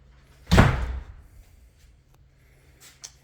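A house door closes with a single loud, close thud that decays over about half a second, followed by quiet room tone and a couple of faint small knocks, with no talk.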